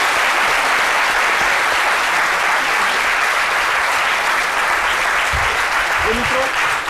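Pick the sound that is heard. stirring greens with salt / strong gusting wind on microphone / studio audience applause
studio audience applause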